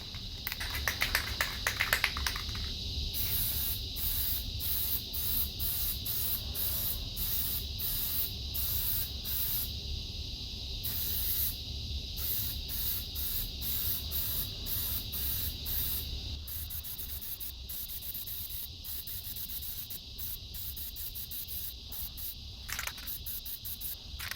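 Short bursts of hissing spray from a can of Plasti Dip rubber coating on a 17-inch Jeep Wrangler wheel repeat in a quick stuttering rhythm, with a steady high-pitched hiss running underneath throughout.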